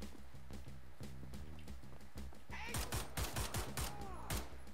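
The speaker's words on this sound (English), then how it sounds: "the Nazis tend to see you and immediately open fire" Gunfire from Nazi soldiers in Wolfenstein: The New Order, a burst of sharp game gunshots in rapid succession over a steady low in-game rumble, loud and close.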